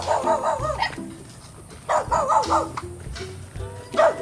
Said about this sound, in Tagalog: Aso, aso, aso.